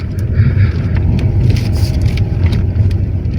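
A car drives slowly onto the grounds of an equestrian festival, with a steady low engine rumble and some tyre and road noise. It is close and continuous for a few seconds, with no talk.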